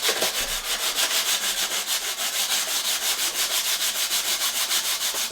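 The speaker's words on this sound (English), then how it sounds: "So we're going to sand this down a little bit." Sandpaper rubbing down a carbon bicycle steerer tube on a gravel bike, a steady rhythm of quick back-and-forth scratchy strokes, close and even, with no talking.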